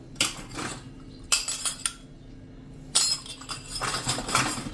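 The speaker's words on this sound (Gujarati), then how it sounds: "એને આપણે આ રીતે એકદમ સરસ ઘોળ તૈયાર કરી લેવાનું છે" Gram flour batter whisked with hing, turmeric and salt in a bowl: bursts of metal spoon clinking and scraping against the bowl's side, several quick close clatters separated by short pauses, with no talk.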